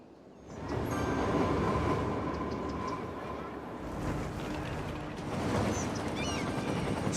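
Trains in the city-building game Cities: Skylines rumble along on rails with a steady, dense mechanical roar, loud and continuous, swelling slightly over several seconds.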